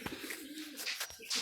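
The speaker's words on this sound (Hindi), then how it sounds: "ये टैडी कबूतर है जी" A pigeon coos softly nearby, a short low throaty call with faint background rustle.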